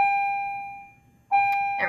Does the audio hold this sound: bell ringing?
yes